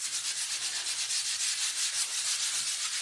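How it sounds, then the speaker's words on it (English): Steady, continuous hiss of light sanding on a wood pallet, a bright, even scraping rub with a gentle back-and-forth pulse, close and alone without talk. "So I'm just going to do a light sand, and I apologize if you don't like that noise."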